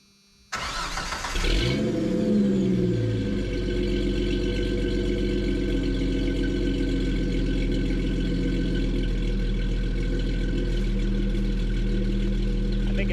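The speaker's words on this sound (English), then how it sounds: "I think it has a nice idle sound." A 1988 Jeep Comanche's inline-six cranks over and catches, then settles into a steady, loud, close idle with a deep, even rumble that holds for the rest of the clip.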